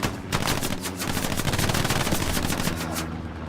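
Sustained automatic gunfire from a machine gun and a Thompson submachine gun in the WWII shooter Hell Let Loose, rapid overlapping bursts filling the whole stretch at close, loud range with no pauses.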